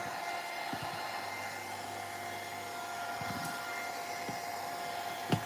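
Heat tool blowing hot air over a drying grungy pastel collage, a steady close whooshing hum held at an even level throughout, with a few faint handling clicks and no talk.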